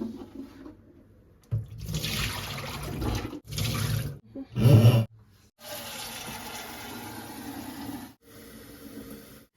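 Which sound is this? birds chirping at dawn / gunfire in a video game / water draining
water draining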